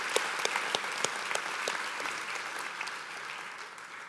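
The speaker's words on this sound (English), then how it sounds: "let's give a round of applause to our past and present host families." Audience applause for host families at a school cultural show, a broad wash of clapping with some close, sharp claps early on, gradually thinning and easing off toward the end.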